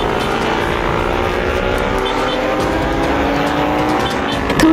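A motorbike engine roars loudly and steadily as it speeds away in a Hindi cartoon, a sustained whining drone with shifting pitch that swells slightly at the end.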